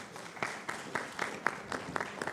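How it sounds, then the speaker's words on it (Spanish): Audience applause at a judicial school forum on bar and lawyers' associations, with several distinct rhythmic clap bursts standing out over a softer crowd clapping background, fairly close and steady, no talk. "a quien le damos un aplauso"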